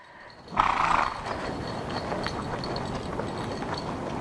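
Horses move around a pen while working a cow, and a soft thump opens into a steady low rustle of movement and hoof noise. The sound is fairly quiet and distant throughout, with no voices.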